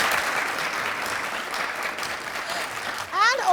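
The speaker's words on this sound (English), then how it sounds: "A round of applause for yourselves." An audience at a talk show event applauds, a dense, steady wash of clapping that holds for several seconds before a voice begins speaking near the end.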